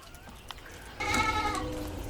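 Goats bleating on a wooden milking stand built from scrap materials, one clear bleat rising suddenly midway and holding loud and near, with quieter rustling before it.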